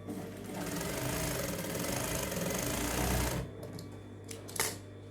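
A sewing machine stitching tent fabric runs in a fast, steady mechanical chatter for over three seconds, then stops, leaving a quiet hum with a few faint clicks and a small knock.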